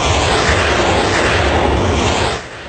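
Eurofighter Typhoon military jet roaring loud and broadband as it flies close, a steady dense rumble that eases slightly near the end.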